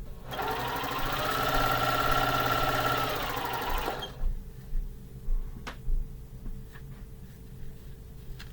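A sewing machine stitches Halloween quilt blocks in one loud, close run of about four seconds, then halts, leaving soft clicks and fabric handling noises.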